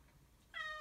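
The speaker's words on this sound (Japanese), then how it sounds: "あーすいません猫が鳴いてる" Faint room quiet gives way to one short, bright cat meow starting about halfway through and holding to the end, heard alone without any talking.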